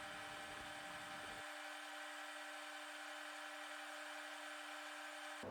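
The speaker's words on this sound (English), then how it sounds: "Then set the motor to forward and switch it on." Small metalworking lathe motor running steadily while a tiny cutting tool cuts a thread, a constant close whine and hum that drops slightly after the first second and continues unbroken.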